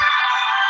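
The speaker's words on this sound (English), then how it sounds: "That's a nice dial tone." A bright electronic phone ringtone sounds steadily and loudly, a brief sustained chime with no other sounds.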